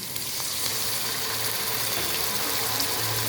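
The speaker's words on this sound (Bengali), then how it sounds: "এই পর্যায়ে সামান্য পানি অ্যাড করছি" A little water poured into masala frying in a pan for chicken biryani gives a steady, loud sizzle and hiss that runs evenly throughout, with no talking.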